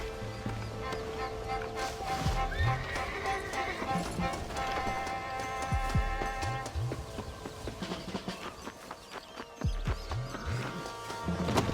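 Horses in a Red Dead Redemption game scene, with rhythmic hoof clip-clop and occasional whinnies, mixed with game music and effects, while voices talk over them.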